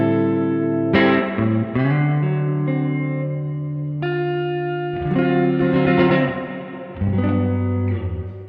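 Clean electric guitar notes and chords ring through the Gravity Tank spring reverb of the Neural DSP John Mayer plugin, each phrase starting with a bright attack and leaving a long, splashy, shimmering tail between plucks.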